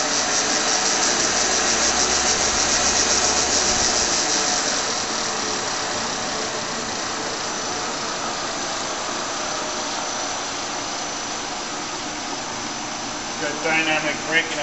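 A Monarch 10EE metal lathe, 12.5 by 20 inch, runs steadily after a speed change, giving a dense, continuous machine whine and hum that stays loud throughout, with a few small knocks near the end.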